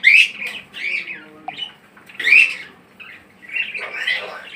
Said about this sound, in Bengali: চন্দনা টিয়া পাখি,